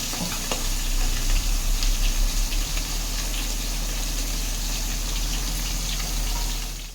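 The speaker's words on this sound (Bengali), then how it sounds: "এবার এগুলোকে আমি লাল লাল করে ভেজে নেবো।" Katla fish heads fry in hot oil with a steady, loud close-up sizzle that crackles on throughout, with no talking.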